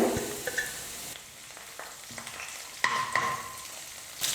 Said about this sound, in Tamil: கொஞ்சம் கருவேப்பிலையை சேர்த்துடுறேன்